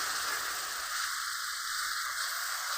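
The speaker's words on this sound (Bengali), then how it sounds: "দিয়ে দিব মশলার গুঁড়া, মরিচের গুঁড়া, জল দিয়ে আরো কিছুক্ষণ কষিয়ে নিতে হবে" Spice powders and chili powder frying in a pan with a little water for a Bengali aair fish curry, a steady close hiss of sizzling with no talking.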